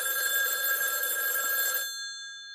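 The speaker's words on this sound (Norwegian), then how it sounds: "Telefonen ringer." A telephone bell rings steadily inside a VR experience set in a locked room, a bright continuous ring that cuts off abruptly and leaves a brief fading tone.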